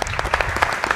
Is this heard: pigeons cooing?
no